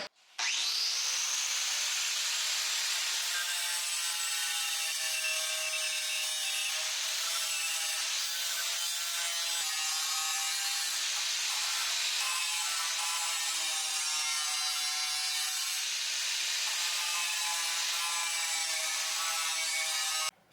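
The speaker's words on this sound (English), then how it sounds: "to trim a tiny bit of this headlight bracket" A metal headlight bracket on a turbocharged K-series BMW E30 is trimmed with a cutting tool, giving a steady, loud, continuous grinding and sawing whine that runs unbroken for about twenty seconds with no talk.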